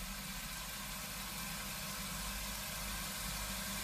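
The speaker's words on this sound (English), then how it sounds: "use the blender mix attachment." A Magimix 4200 food processor with the blender mix attachment runs while blending soup, giving a steady, even motor whir with no breaks throughout.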